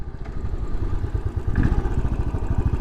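A Royal Enfield Bullet 500 motorcycle single-cylinder engine running close by, a loud, steady, low thumping rhythm of rapid pulses that swells slightly partway through, heard alone without talk.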